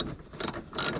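A hand ratchet clicks in two quick bursts while tightening the rear bolts of a Bride Japan racing seat, close and crisp with no speech.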